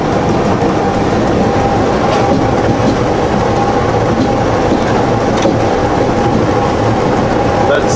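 A train running at speed on the rails between Sydney and Bathurst, heard from inside as a loud, steady rumbling roar with faint rhythmic clatter throughout.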